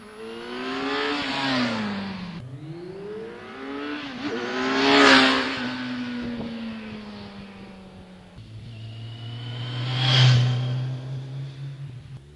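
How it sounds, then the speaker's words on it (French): A Kawasaki Z1000 motorcycle engine revs hard through several gears, each rising howl cutting off at a shift before climbing again, loud and close, with a deep throaty idle-like drone at the end. "La Z1000 pousse aussi fort en bas qu'en haut, et avec une sonorité qui ne demande qu'une seule envie"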